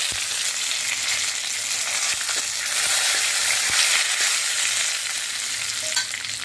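Urad dal, dried chillies and curry leaves fry in hot oil in a pan, giving a steady, loud, close sizzle with faint crackles throughout and no voices.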